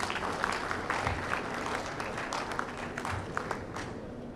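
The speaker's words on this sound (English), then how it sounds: "Let's welcome him with a big round of applause." Crowd applause rises at an awards ceremony as an insurance company's chief operating officer is welcomed to the stage. Steady clapping sounds somewhat distant and moderately quiet, with a few louder bursts mixed in.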